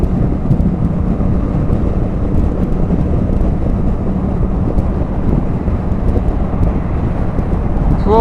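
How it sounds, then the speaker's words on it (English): Strong wind buffets the microphone on a naked motorcycle without a screen, riding the M3 motorway, a loud, constant broadband roar with engine drone beneath, unbroken for the whole stretch. "Proper windy day."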